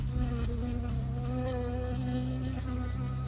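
A bee buzzes loudly and close in the video game Firewatch, a continuous droning hum with a wavering pitch that holds steady for the whole few seconds with no voices.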